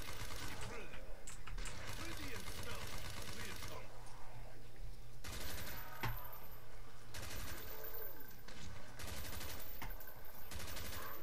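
An RPK machine gun in a zombies video game fires repeated rapid bursts, loud and close, with pauses between volleys and people talking over the shooting.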